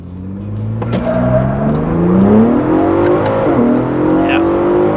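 A 2022 Ford Bronco Raptor with a Whipple calibration accelerates hard in manual mode. The engine roars, its pitch climbing steadily through a long drawn-out gear before shifting, loud and close from inside the cabin, with occasional voices underneath.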